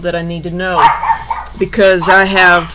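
A dog barks and yips loudly nearby in a home, several sharp calls in two bursts, mixed in with a person talking.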